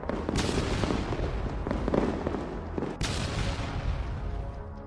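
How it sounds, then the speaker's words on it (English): Repeated artillery fire from Russian soldiers shelling toward a nearby trench line in combat, a dense, continuous series of booms and gunfire with one especially sharp blast partway through, loud and close with no talking. "These Russian soldiers were firing artillery non-stop toward the Ukrainian troops positioned in a nearby trench line"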